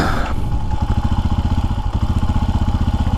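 A Lifan X-Pect motorcycle engine surging as if between wide open throttle and off, a loud, close, rough pulsing engine rhythm that starts with a brief rise, then settles into rapid uneven throbbing.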